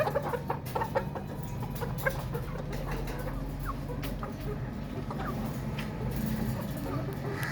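Laying hens cluck in a flock, with soft, irregular clucks and calls from several birds nearby over a steady low background hum.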